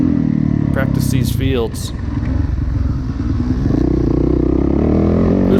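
A dirt bike engine drones and revs loudly and close as the rider throttles through a field section during a SORCS 2018 Mountain Top race, with wind noise and a rider's voice over the engine.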